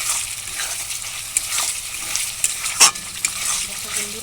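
Shrimp malai curry with a little yogurt gets stirred in a pan, a close sizzle overlaid with repeated spatula scrapes and one sharper clatter midway, without any talking.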